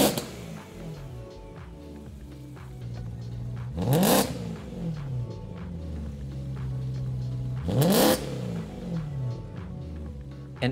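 A BMW E90 M3 engine idles with a low exhaust burble through an Akrapovic titanium rear exhaust section with carbon fiber tips, then revs sharply twice, each rev rising quickly and falling away, loud and close.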